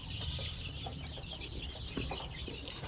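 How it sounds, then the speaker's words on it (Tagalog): Newly hatched chicks in a poultry coop give faint, high peeping chirps, scattered and overlapping, with soft background noise and no talk. "Yan oh, ito yung mga bagong sisiw natin."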